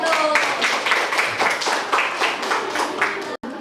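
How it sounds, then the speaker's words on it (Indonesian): Classroom applause for group 1 during a practice teaching lesson, a steady burst of hand claps lasting a few seconds with a brief cut near the end. "tepuk tangan untuk kelompok 1"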